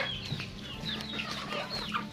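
Crossbred chickens cluck steadily nearby, several birds overlapping in soft, repeated calls with no talking.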